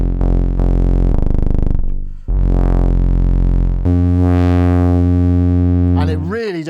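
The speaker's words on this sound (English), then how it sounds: "we should listen to what the drive does, because it is astonishing." A loud Dreadbox Hades bass synthesizer plays sustained buzzy notes through its OTA drive circuit, some sweeping and pulsing, with gritty harmonic distortion and a wobbling pitch bend at the end.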